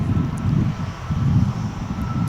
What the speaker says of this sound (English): looks to be Spirit Airlines on its way to Las Vegas with an A320neo.